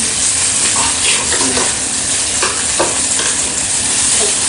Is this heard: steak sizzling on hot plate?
yes